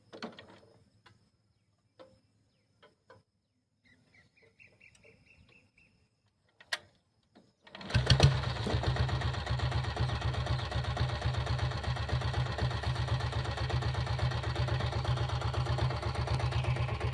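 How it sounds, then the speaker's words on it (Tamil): 2000-model Taurus motorcycle with self start: a few faint clicks and taps first, then the engine fires and settles into a loud, steady, rhythmic chugging idle that carries on to the end. "வாங்க இப்போ வண்டி ஸ்டார்ட் பண்ணி பார்க்கலாம் வாங்க"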